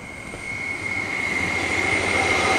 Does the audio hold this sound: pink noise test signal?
no